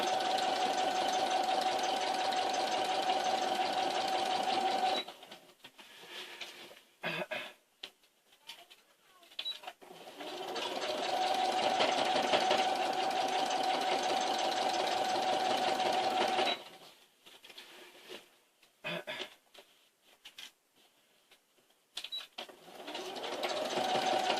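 A sewing machine stitches quilt-as-you-go blocks in two long steady runs of rapid stitching, separated by a pause of handling noise and followed by brief irregular bursts.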